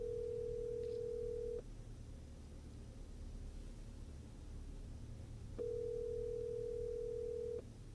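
An outgoing telephone call ringing out before voicemail, with a long steady ringback tone, a pause of faint line hiss, then a second identical tone, heard clearly over a low background hum.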